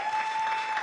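Dense, steady audience applause fills a grand finale event hall, many hands clapping evenly at moderate loudness with no voices over it.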